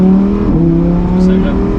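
Sports car fitted with an exhaust valve module controller, held near 3000 rpm with its valves open, a loud steady engine drone close by, with voices over it.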